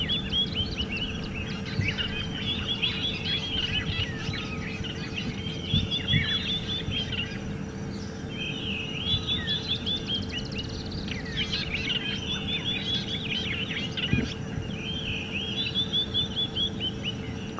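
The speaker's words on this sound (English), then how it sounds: "you can appreciate a lot of bird song" Many birds sing and chirp in the African bush on a morning safari drive at Djuma Game Reserve, overlapping calls and trills repeating over a steady low rumble of the vehicle.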